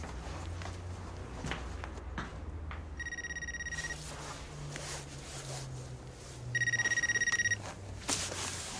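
A telephone rings in two bursts of a bright trilling bell, the second louder and nearer, over a low background hum with faint footsteps and thuds between the rings.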